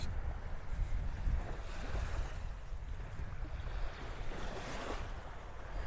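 Ocean waves wash onto a beach in North Naples, Florida, a steady rushing surf with gentle swells, heavily buffeted by wind across the microphone.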